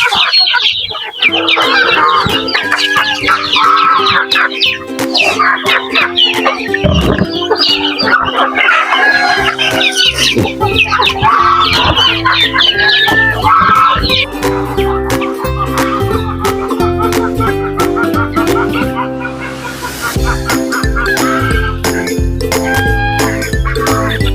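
A flock of chickens and geese in a free-range area clucks and squawks continuously, close by, with a rooster's crow and scattered cheeping from chicks.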